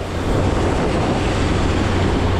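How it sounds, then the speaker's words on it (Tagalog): A fishing boat's engine whistling at sea, a loud, steady, close-up roar mixed with wind and water noise that runs unbroken. "yung marinig natin sa makina parang nag-whistle, nagtaghoy lang ba"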